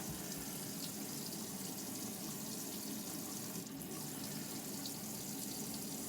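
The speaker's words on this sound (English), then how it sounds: "this is going to be about 5 gallons of water that we've drawn continuously." Water runs steadily from a tap in a NuCamp TaB 400 camper trailer, a continuous hiss and splash drawn from the Alde water heater system, with no talking.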